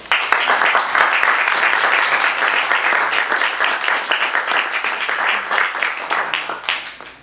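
An audience breaks into sustained applause to welcome speaker Ron Levant, a full, dense wash of clapping that tapers off near the end.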